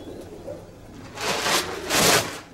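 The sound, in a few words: pigeons cooing on Santorini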